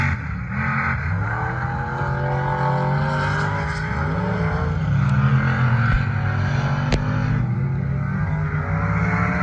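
Several off-road 4x4 trucks with long-travel suspension roar and rev loudly nearby at a 4x4 park, pitch rising and falling as they accelerate and shift, a dense, continuous motor din.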